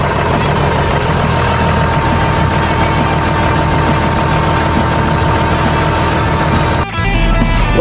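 A John Deere heavy equipment engine runs after a turbo install, a loud, steady rumbling idle with a faint vibration that briefly dips near the end.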